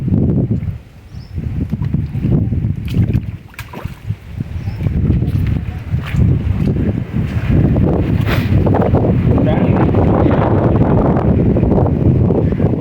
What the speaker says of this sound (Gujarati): જોઈ લો પવન છોટા હજી ચાલુ છે